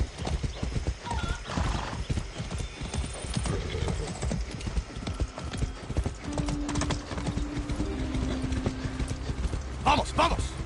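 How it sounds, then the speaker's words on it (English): A horse in the video game Far Cry 6 clip-clops in a steady rhythm, with a whinny and faint mechanical clanks among the hoofbeats. "Be nice, horse."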